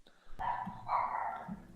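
A dog gives two or three short, mid-pitched barks close by, with faint background noise between them.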